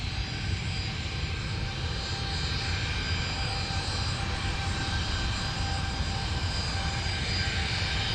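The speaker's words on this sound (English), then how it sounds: "it looks like the 737 is going to come out and go" A Boeing 737 jet departs Cairns Airport with a steady, broad engine roar that holds at an even level throughout, without speech.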